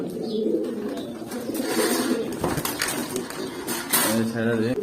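Pigeons coo in low, throaty bursts nearby, with some clinking and a person talking over them, near brooding pigeons on eggs.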